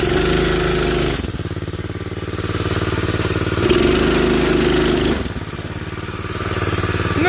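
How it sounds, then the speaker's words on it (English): A homemade junker ATV's small engine runs loud and close, a steady buzzing idle with rises and dips in speed, the throttle blipped a few times, and no talk over it. "at least the engine runs."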